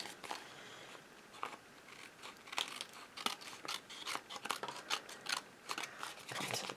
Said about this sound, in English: I'm going to go ahead and cut these off